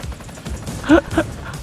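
In the racing video game Split Second Velocity, short rumbling bursts of explosion crack out twice in quick succession. They sit over continuous game noise and commentary.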